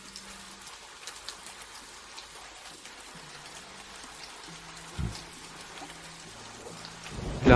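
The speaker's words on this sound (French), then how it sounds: "Il va pleuvoir." Rain falls steadily outdoors as a storm approaches, a soft continuous hiss of drops with a few louder splashes near the end, no voices over it.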